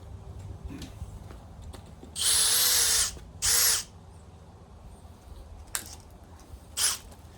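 Two loud bursts of a power drill whirring, one longer and one short, followed by a few brief faint clicks in a quiet room.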